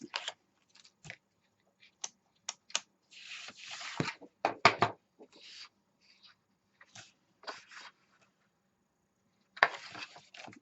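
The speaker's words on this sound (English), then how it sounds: "burnish your edges" Paper edges of a handmade mini album are burnished with scattered short rubbing and scraping strokes, close and fairly quiet, separated by silent gaps.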